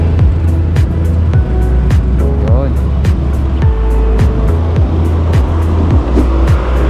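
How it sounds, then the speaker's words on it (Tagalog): Road traffic on a drive toward Timberland, with a steady car engine and road rumble and other vehicles moving nearby, under someone talking. "Traffic."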